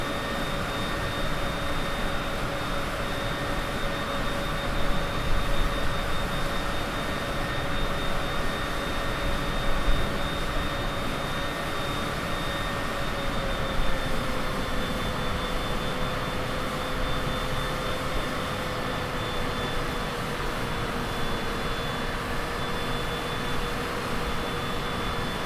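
Steady, loud whine and rumble of a Citation CJ4 business jet's engines on landing approach to Orlando in Microsoft Flight Simulator 2020, a constant broadband roar with sustained tonal hums that slowly shift pitch, with no talk.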